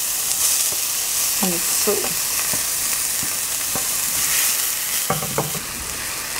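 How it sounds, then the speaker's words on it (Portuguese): Garlic and onion frying in a pan on low heat, a steady close sizzle throughout with occasional stirring scrapes and a brief word spoken. "Vou botar o alho. Eu gosto de botar o alho com o fogo mais frio, pra não queimar."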